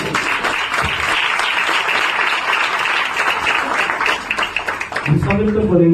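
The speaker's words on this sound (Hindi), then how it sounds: "सुंदर कलाम के लिए एक जोरदार ताली" An audience at a Christian worship service claps in sustained, dense applause for about five seconds, loud and steady, before a voice begins speaking over the fading claps.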